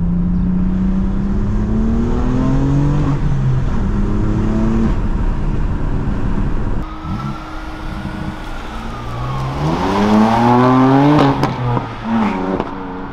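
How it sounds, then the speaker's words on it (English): A BMW M4 Competition's twin-turbo engine revs hard several times, its pitch climbing and falling in sweeps, with a high turbo whine rising over the roar. "I love the turbo sound on this car."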